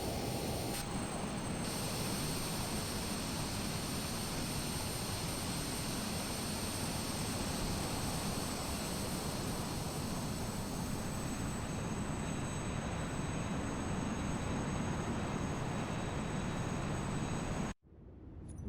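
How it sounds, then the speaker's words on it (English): Loud, steady roar and whine of a Learjet 35A jet engine spooling up in Microsoft Flight Simulator 2024, continuous and broadband for about eighteen seconds before cutting off abruptly near the end. "So we're going to go ahead and start up the next engine here."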